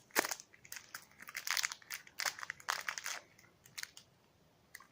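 Cigar package being opened, close crinkling and crackling of wrapper or cellophane in irregular bursts, loud at first and thinning to a few faint crackles.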